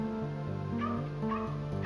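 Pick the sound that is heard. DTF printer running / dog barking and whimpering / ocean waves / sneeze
dog barking and whimpering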